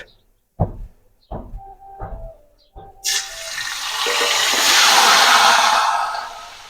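Onion paste dropped into hot oil for a Bengali soybean curry: a few soft knocks, then a loud, close sizzle bursts in and swells into a sustained frying hiss.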